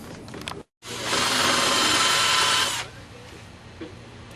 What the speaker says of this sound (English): let's start drilling